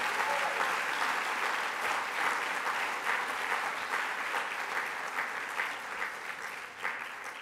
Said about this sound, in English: One more round of applause for all of our six inductees this evening.